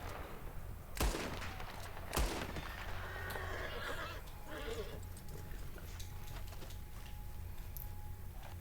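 Two sharp gunshots crack about a second apart while hunting rabbits in the video game Red Dead Redemption 2, over a continuous bed of horse hoofbeats and outdoor ambience.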